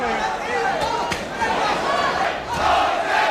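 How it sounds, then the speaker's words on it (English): Boxing arena crowd chanting Jose during a heavyweight bout, a loud sustained roar of massed voices with a rising and falling chant, swelling again near the end, with a commentator speaking over it. "Crowd taking up a chant of Jose."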